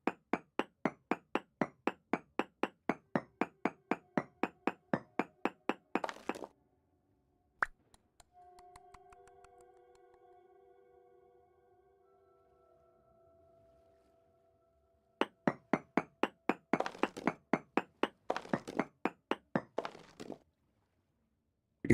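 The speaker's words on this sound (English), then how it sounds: "Pulverizer to smash bauxite and quartz to mix with fire clay for refractory bricks." A pulverizer in Vintage Story crushes bauxite and quartz with a fast, steady run of loud hammering thuds, pauses for a soft tonal hum, then resumes the same regular pounding.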